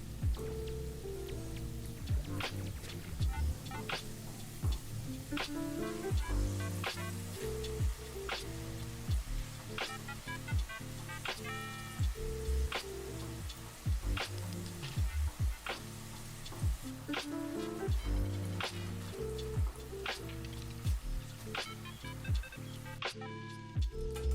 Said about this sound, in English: We're gonna fry it for the second time on a high heat until they are brown and crispy texture.